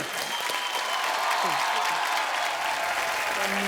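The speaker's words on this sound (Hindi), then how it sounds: "जोरदार तालियां रितेश भाई के लिए।" A studio audience at a comedy talk show applauds loudly and steadily, a dense wash of clapping that carries for several seconds.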